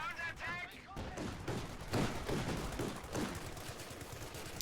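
Light machine gun fire from an LMG squad in Company of Heroes 2, distant crackling bursts under a match mix while a caster talks over it.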